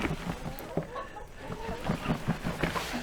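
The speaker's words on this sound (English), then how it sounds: "Well, here we are up here at the chickens." Chickens cluck in a farm coop, a close, busy run of short clucks and calls repeating irregularly with no one talking.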